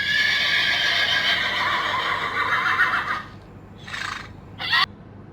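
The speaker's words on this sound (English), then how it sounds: "It's a horse." A horse neighs in a long, loud, shrill whinny, then gives two short, quieter snorting calls after a brief pause.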